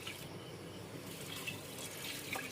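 Water is poured onto rice in a rice cooker pot, a faint, steady splashing trickle in a quiet home kitchen.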